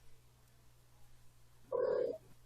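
A cat gives a single short, chirping murp, close and clear, over a quiet low background hum.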